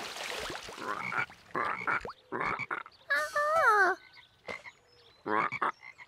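Cartoon frogs croak loudly in a children's animated show, a run of warbling, wavering croaks in uneven bursts with short pauses between them and no talking.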